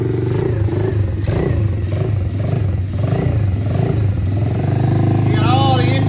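A cheap, worn-out dirt bike engine runs loud and rough with heavy intake noise, a steady buzzing drone with uneven clatter throughout and a voice talking over it.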